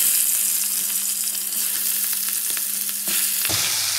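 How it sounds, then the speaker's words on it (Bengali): Around nine or ten prawns frying in hot mustard oil, a dense, continuous, close sizzle and crackle that stays steady for several seconds, then drops sharply near the end, with no voices. "আগে মাছগুলো সর্ষের তেলে ভেজে নিই ভালো করে।"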